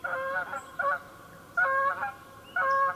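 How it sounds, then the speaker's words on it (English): Loud, nasal honks from Canada geese settling into swampy fields in Utah come in four short bursts, each a quick cluster of calls with brief pauses between, over faint background noise. "I was delighted to see hundreds of Canada geese settling into the swampy fields"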